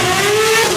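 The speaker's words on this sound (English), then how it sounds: "What you're hearing right now is the real noise and roar potential of this 6-cylinder engine" A Porsche track car's six-cylinder engine roars through a titanium exhaust, a loud, sustained note with a steady rising tone close by and no talk over it.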